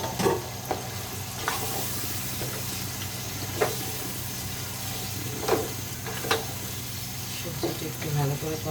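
Washed meat and vegetables fry in a pan, giving a continuous sizzle with occasional clinks and scrapes of stirring and a soft voice speaking under it.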